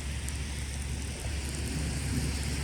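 Steady, heavy rain pours down all around, a continuous close hiss and rumble of drops striking surfaces with no break and no voices.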